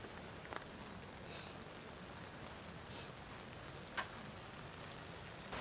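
Rain falling steadily at an outdoor football training camp, a soft continuous hiss of drops with a few faint taps and knocks, fairly quiet throughout.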